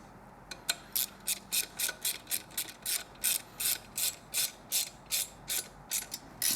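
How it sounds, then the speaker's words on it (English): A hand ratchet final-tightens screws on a metal retro chain guard being fitted to a liquid-cooled 2016-or-later Triumph motorcycle, giving a close, crisp series of about fifteen evenly spaced clicking strokes with no talk. "And final tighten with your ratchet."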